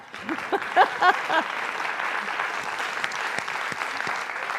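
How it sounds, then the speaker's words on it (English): Clapping from an audience at a faith gathering rises as a steady patter of many hands, with a voice briefly talking over the start before the applause carries on alone. "yes, clap"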